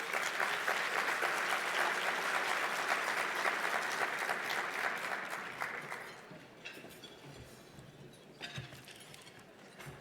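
Audience applause at an awards luncheon welcoming a speaker, a steady, dense clapping from a large crowd for about six seconds, then thinning into scattered claps and room noise.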